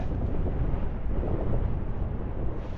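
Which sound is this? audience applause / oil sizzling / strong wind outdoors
strong wind outdoors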